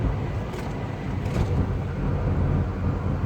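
A 1974 Buick Century Luxus with a 350 V8 and two-barrel carburetor idles close by, a steady low rumble with no voices over it.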